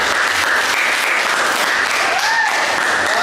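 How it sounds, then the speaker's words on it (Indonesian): Sustained applause from a classroom group at a teacher performance assessment in Cirebon, Indonesia, dense steady clapping filling the whole stretch at close range, with a faint voice rising briefly near the end. "Beri aplaus untuk kita semua."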